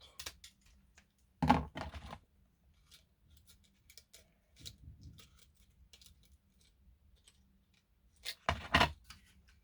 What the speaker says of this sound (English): And I need to cut off this stem part.